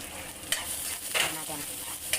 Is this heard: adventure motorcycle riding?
no